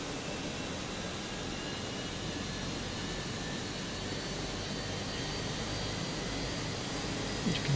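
Number one jet engine of a Latam Airbus A320 starting up in Microsoft Flight Simulator 2024: a steady, dense roar with a high whine, holding at a constant level throughout and heard alone.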